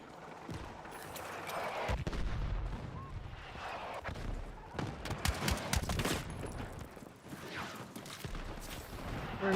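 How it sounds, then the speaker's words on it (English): Mortar strikes and battlefield explosions in a video game tank battle, a dense run of booms and rapid gunfire bursts that swells and fades over the whole stretch, with a voice talking faintly beneath. "Are they actually coordinating their mortar strikes now?"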